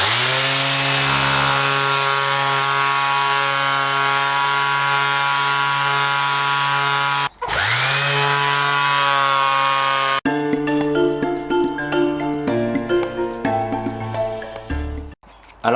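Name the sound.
Makita random orbital sander running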